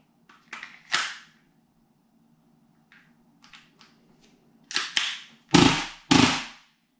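An airsoft gas Glock with an AAP-01 selector switch and a WE 50-round magazine. It fires sharp, close cracking pops: a few scattered shots and faint clicks, then three loud bursts near the end.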